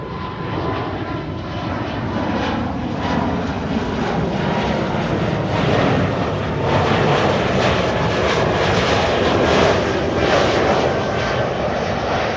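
An airliner arriving from Miami on the Kaagbaan runway at Amsterdam Schiphol Airport produces a steady, loud engine roar that swells and holds throughout, with no voices.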